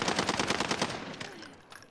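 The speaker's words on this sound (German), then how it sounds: "das waren zu viele Schüsse da." Automatic gunfire from several shooters in Call of Duty Warzone rattles off in a rapid, fairly close burst, then fades into quieter scattered shots.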